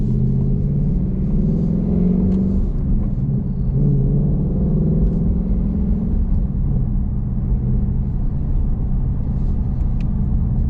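Race red Ford Mustang Mach 1 with resonator delete and MBRP X-pipe driving slowly through a neighborhood, a steady deep exhaust burble and drone heard from inside, loud and continuous with slight swells in pitch.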